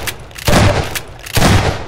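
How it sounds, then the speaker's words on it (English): Two heavy grenade blasts go off in Half-Life 2: Episode Two, about a second apart, each a loud close boom with a rumbling tail. Voices are barely present between them. "Oh, grenade."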